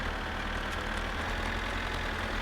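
A tractor engine idles steadily in My Summer Car, a loud, continuous low rumble with a constant even drone and no breaks or voices.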